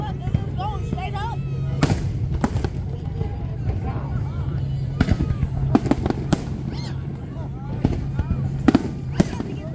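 Ford fireworks over Detroit crackle and boom in repeated sharp bursts, some loud and near, others distant, over a steady crowd hum with people talking throughout.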